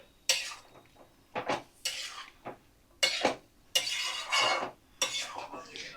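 Spoon scraping and stirring gourd and shrimp curry in a metal pot, a series of short clattering strokes with brief pauses between, fairly close and moderately loud, with no talking.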